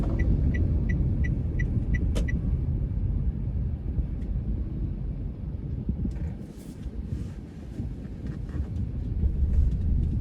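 A Daihatsu Sigra M 1000cc car driving on the road, a steady low engine and road rumble heard from inside the cabin, with a few faint clicks like a turn signal and light wind noise.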